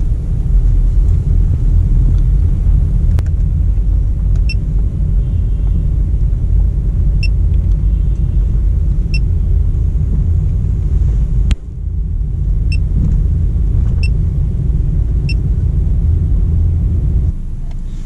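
A car drives along a road with a steady, loud low rumble of engine and tyre noise throughout, a sudden brief dip near the middle, and faint high electronic chirps now and then.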